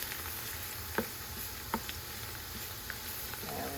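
Minced garlic sizzles softly in a pan, a faint continuous crackle broken by a few sharp ticks as it is stirred, with no voices.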